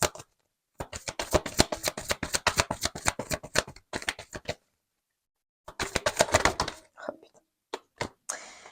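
Tarot cards shuffled by hand, a rapid run of crisp riffling flicks that pauses, resumes, then ends with a few single card taps; close and fairly quiet, with no talking.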